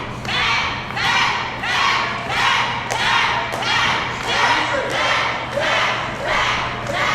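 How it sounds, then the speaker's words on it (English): A wrestling crowd at Slamboree chants in a steady, pulsing rhythm. Each loud rise is punctuated by sharp claps or stomps, with about a dozen beats in a large, echoing arena. "Crowd chanting for King here"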